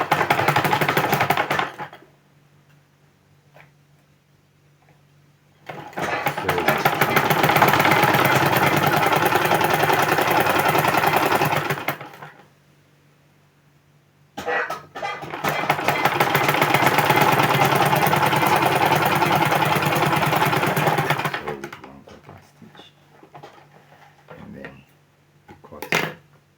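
Sewing machine stitching a zipper onto trousers, sewn right side to right side from the notch with a quarter-inch seam; two long steady whirring runs of about six seconds each, separated by quiet pauses, loud and close.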